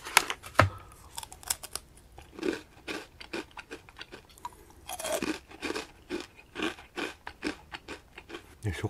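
Crisp, light crunches of a Gorgonzola-flavoured squid tempura snack being chewed, close and quiet, arriving in irregular bursts with brief pauses between bites.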